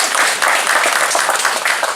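Steady applause fills a hall at a long-running competition in Ankaran, dense and continuous throughout with no pauses or speech.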